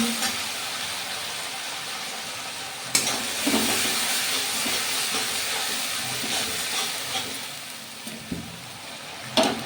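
Spice paste cooked with tomato paste sizzles steadily in a pan for a potol (pointed gourd) curry, with a few louder scrapes and clacks of stirring, close and continuous, no voices.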